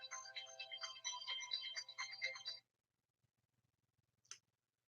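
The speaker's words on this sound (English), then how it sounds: "It's the phone." A telephone rings in a warbling electronic tone, one continuous burst lasting a couple of seconds, then cuts off into quiet with faint clicks and a brief sharp sound after.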